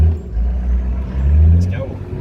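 A four-wheel-drive vehicle in low range crawls across soft beach sand near Stockton, its engine a low, close rumble that swells and eases over a couple of seconds.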